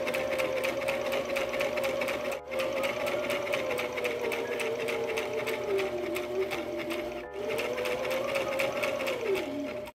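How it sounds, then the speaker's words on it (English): Steady electric sewing machine stitching along a skirt hem, running continuously with a constant mechanical whir and rapid needle chatter, pausing briefly twice before resuming, close and fairly loud. "Now all that's left with the skirt is sewing the hem on"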